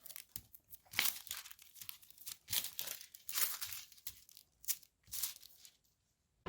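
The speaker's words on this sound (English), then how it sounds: "I'm gonna take some more foil and just go back over this whole thing" Foil is rubbed and pressed over a scrapbook layout, producing close, faint crinkling and scratchy rustling in uneven bursts with short pauses between strokes.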